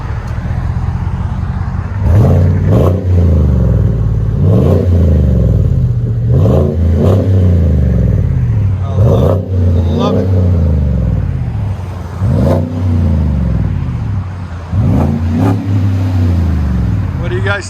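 A Chevy/GMC 6.6L V8 pickup with an aftermarket exhaust revs repeatedly, each loud throttle blip rising and falling in a regular pattern over a deep rumbling idle, with occasional voices in between.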